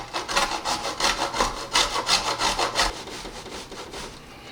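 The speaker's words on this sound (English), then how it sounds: "We gotta grate some cheese, 1 cup of Parmesan, freshly grated." Parmesan cheese being grated by hand, a close, loud rhythmic rasping with quick back-and-forth strokes repeating steadily before easing off at the end, with no talking.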